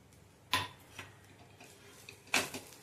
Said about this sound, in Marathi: गूळ चांगला वितळेपर्यंत भाजून घेणार आहोत।